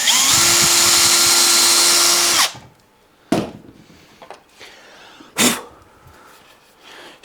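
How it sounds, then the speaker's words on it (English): A power drill whines steadily for over two seconds as it drives a pilot screw into an SG electric guitar neck in a workshop, then stops, followed by a few sharp knocks and scrapes. "I'm going to put a pilot screw through there, and I'm going to hold this neck in place"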